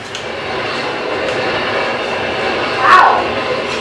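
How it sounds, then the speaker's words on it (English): A fast train rushes past with a steady rumbling roar and a brief louder swell near the end, fairly close and with no talking. "Wow. These trains are quick."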